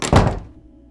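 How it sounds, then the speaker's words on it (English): A door is shut with a single heavy thunk that rings briefly and fades into a quiet room. "He shut the door in my face."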